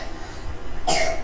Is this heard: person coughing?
yes